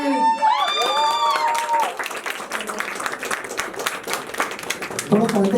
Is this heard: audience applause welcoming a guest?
yes